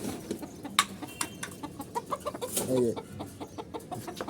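Chickens cluck in short, irregular bursts at close range, with scattered scratchy farmyard noises and a brief louder squawk midway.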